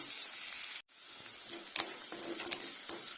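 Shallots, garlic and ginger fry in hot oil, a close, bright crackling sizzle that briefly cuts out, then resumes with small pops and spits.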